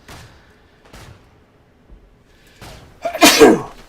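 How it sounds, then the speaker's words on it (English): After a few soft breaths and sniffs, a single loud, close sneeze bursts out at the end. "Oh, I feel like I need to sneeze."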